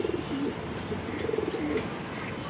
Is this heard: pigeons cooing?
yes